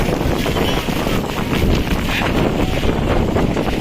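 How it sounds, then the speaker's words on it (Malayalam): Strong wind roars steadily through a rainstorm in Edappally, Kochi, Kerala, a loud, continuous rushing buffet close to the microphone with no pauses and no voices. "അതുപോലെ നല്ല കാറ്റുമുണ്ട്."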